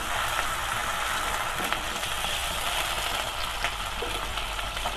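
Garlic ginger paste cooks in a hot pan with a dense, steady sizzle that holds at an even level throughout, with no voices over it.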